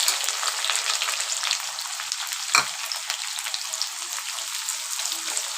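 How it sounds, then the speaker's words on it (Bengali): Chopped onion fries in a pan with bay leaf and dried red chillies, a continuous close sizzle with crackling pops and a brief stirring scrape midway, no talking. "পেঁয়াজ কুচিটাকে এবার ফ্রাই করে নেব।"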